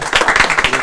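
An audience at a Korean television debate show claps for a guest, a short dense burst of applause heard up close.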